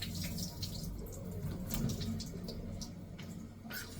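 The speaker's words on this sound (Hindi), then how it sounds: "दाल धो के भिगो के रख रही हूँ।" Running water splashes steadily as lentils (dal) are rinsed and left soaking in water in a home kitchen, a continuous close gush with small clatter.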